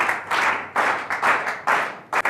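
Audience applause at a Kiya Talk event welcoming speaker Ermias Zeleke onstage: bursts of clapping rise and fall in several waves, fairly loud and close, with brief gaps between them.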